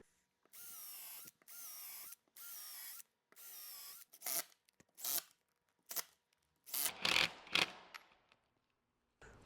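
A power drill drives screws into a wooden miter sled for a table saw. Several short whirring bursts of the drill sound up close, followed by ratcheting clicks and knocks, with quiet pauses in between.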